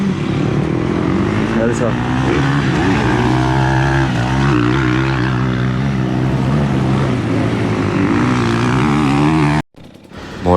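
Motocross motorcycles race around a dirt circuit, their engines whining and droning steadily from a middle distance while a person talks over them nearby.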